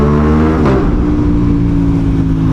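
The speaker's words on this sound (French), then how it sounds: "Oh là là, le bruit de cette ligne, c'est vraiment un régal" A motorcycle's exhaust roars loud and close, holding a steady throaty rumble and then shifting pitch as the revs change partway through, with no talk.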